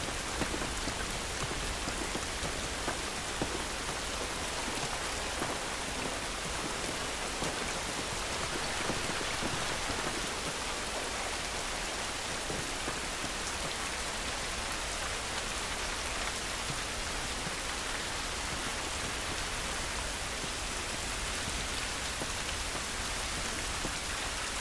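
Steady, dense rain pours down outdoors in the video game The Last of Us, a loud continuous wash of droplets with no voices.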